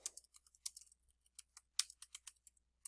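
Quiet, scattered keystrokes on a computer keyboard as a comment is typed into a grading page, irregular clicks in short bursts with no voices.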